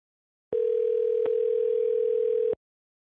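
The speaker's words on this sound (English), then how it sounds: "Stopped ringing for me, but I can't hear anything." A screened telephone call rings through as one steady tone lasting about two seconds, loud and alone with no talk.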